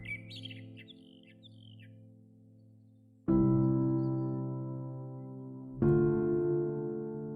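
Birds chirp and call at a bird-ringing station, with short high tweets at the start before deep sustained tones swell in twice and dominate the rest.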